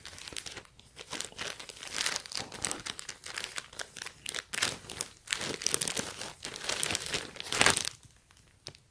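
A Ziploc plastic bag holding a Palace Skateboards long-sleeve t-shirt crinkles and crackles close to the microphone in irregular handled bursts, alone without speech, fading out at the end.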